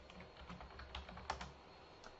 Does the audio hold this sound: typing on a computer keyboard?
yes